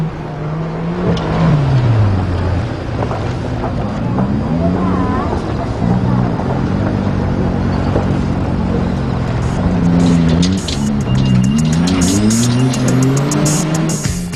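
Off-road 4x4 vehicles drive at Mobility Park in Japan, their engines droning and rising and falling in pitch as they rev and strain, loud and continuous throughout with voices partly audible over the motor noise.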